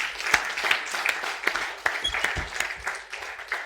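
An event audience claps to welcome a guest at a 200th-episode celebration in Coimbatore, a moderate, steady patter with a few sharper individual claps.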